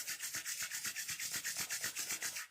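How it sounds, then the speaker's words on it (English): Two hands rub briskly together close by, making a steady rhythmic swishing of about six strokes per second that runs without pause and without any voice. "Rub your hands"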